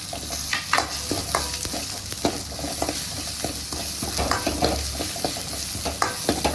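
Pepper and coriander seeds dry roasting in a pan for a mutton fat gravy, giving a steady rustling, scraping stir with frequent small clicks and taps of the spoon, close and continuous without talk.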